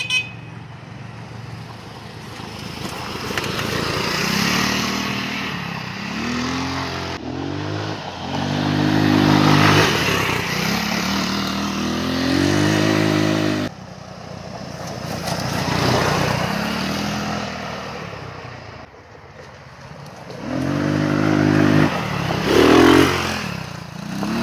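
A Massimo GKA200 go-kart engine runs close by, buzzing loudly as it revs up and down in repeated waves of acceleration and easing off, with no talk.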